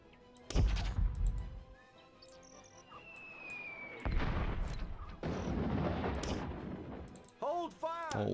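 Booming artillery volleys from the Warhammer Dark Omen battle game, a heavy thump near the start and another around the middle, with battlefield clatter and brief voice calls mixed in.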